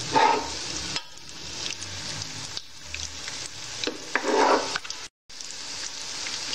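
Potato kofta balls filled with cream frying in hot oil, a bright continuous sizzle that surges and eases as they are turned, with a short drop to quiet before it resumes.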